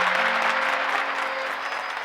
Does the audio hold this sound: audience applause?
yes